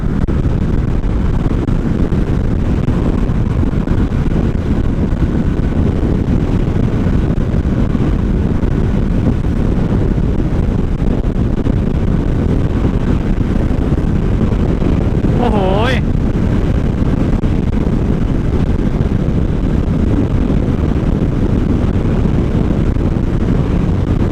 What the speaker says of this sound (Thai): วันนี้ลมค่อนข้างแรงนะ